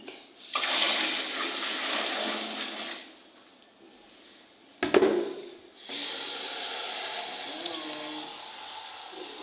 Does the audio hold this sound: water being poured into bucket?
yes